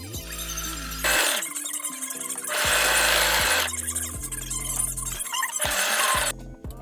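A sewing machine stitches the sleeve seam of a tapestry hoodie, running in several loud mechanical bursts with brief pauses between, close by and without talk.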